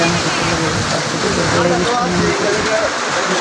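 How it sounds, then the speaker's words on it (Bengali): Heavy afternoon rain falls steadily as a dense, loud hiss that fills the whole stretch, with indistinct voices faintly underneath. "বৃষ্টিটা একটু কমছে"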